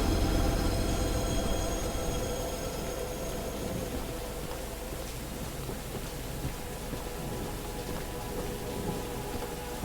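A train in the video game Choo-Choo Charles rumbles steadily with low mechanical drone and faint squealing tones that fade as it slows, alone with no talk.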